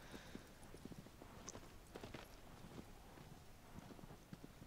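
Horse hoofbeats in the PS4 Pro version of Shadow of the Colossus: a steady clip-clop of hooves at a walking pace, quiet and continuous, over a soft ambient background.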